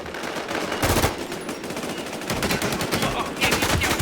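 Gunfire in the online shooter Infestation rattles in rapid automatic bursts, loud and close, broken by brief pauses.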